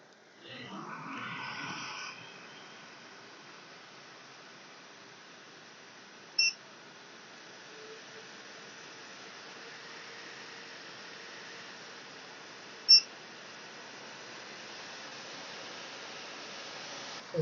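An AIRSEE GD3 nail dust collector running close up, giving a steady, quiet fan hiss broken by a couple of faint clicks, with a softer handling noise at the start.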